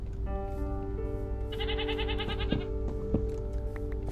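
A video game goat gives one clear, wavering bleat in the middle, loud and close, over a steady background of game music tones.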